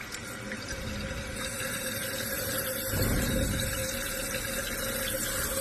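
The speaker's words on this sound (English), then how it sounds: "See, water's filling." Continuous rushing of water filling a toilet tank, a steady hiss that grows slightly louder and fuller partway through.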